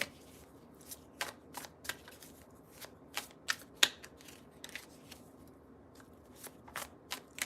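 A Soul Symphony card deck being shuffled by hand, a quiet, irregular series of crisp riffling snaps and flutters, close and alone with no talk.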